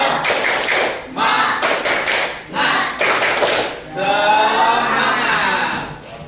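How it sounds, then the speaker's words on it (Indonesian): An Indonesian classroom group performs the 'tepuk semangat' spirit clap, bursts of loud rhythmic clapping in patterned groups, ending with a cheer-like vocal shout. "Tepuk semangat dulu."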